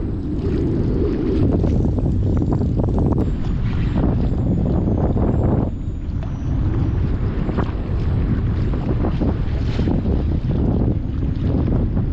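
Strong wind buffeting the microphone in stormy weather while kayak fishing for tarpon and shark, a loud, constant roar with gusty swells and water splashing against the kayak, no talking.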